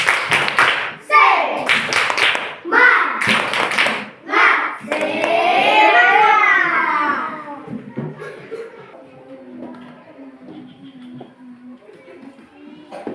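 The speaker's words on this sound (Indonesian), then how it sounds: "Tepuk semangat" Schoolchildren in a classroom perform a rhythmic spirit clap, several sharp group claps in a patterned beat, followed by chanted children's voices that fade into quieter room sound.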